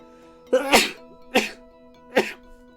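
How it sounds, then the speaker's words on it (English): Three sneezes come in close succession, each a sharp burst over a faint steady background hum, the first loudest and the next two slightly shorter. "I had to sneeze"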